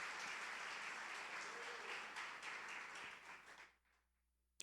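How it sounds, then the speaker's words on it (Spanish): A church congregation applauds in praise of the Lord, dense sustained clapping filling the room for nearly four seconds before fading out abruptly to near silence. "Dale ese aplauso al Señor."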